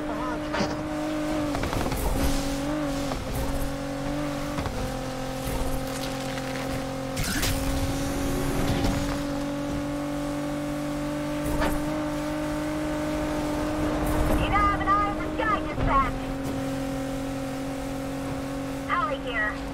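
A Nissan GT-R in Need for Speed Unbound revs and accelerates hard, its loud, steady engine drone climbing through the gears with brief tire squeals along the way, while someone talks excitedly over it.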